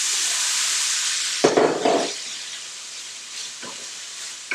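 Steamed broccoli drops into a hot skillet of vegetable oil, a steady hiss giving way to a louder burst of sizzling and clatter as the pieces land, then settling into quieter frying.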